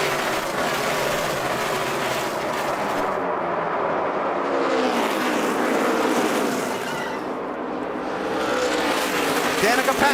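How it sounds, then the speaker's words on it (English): NASCAR Sprint Cup race cars roar around Phoenix Raceway in a dense, loud wall of engine noise, swelling and fading as the pack passes, with a commentator's voice running over it. "Keselowski slipping while Harvick clears Kyle Busch for the race lead"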